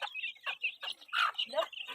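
A hen clucks in quick, close bursts, a short run of sharp calls with no speech.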